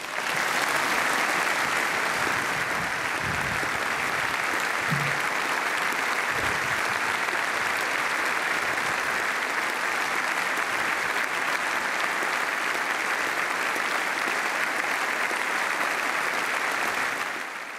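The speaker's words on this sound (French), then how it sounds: "s'étaient tous levés comme un seul homme pour applaudir son discours. Regardez la standing ovation." Standing ovation from members of the French parliament, a loud, sustained wall of dense clapping from a large assembly lasting throughout, with no pauses.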